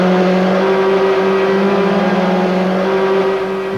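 Onboard a 1993 Opel Astra touring car at Kyalami, the engine screams at sustained high revs, a loud steady drone with a slight pitch shift near the end, no voices.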